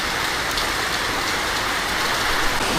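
Heavy rain drums steadily on a tin roof during a Kalbaisakhi storm, a dense, even hiss of countless drops with no pauses and no voices.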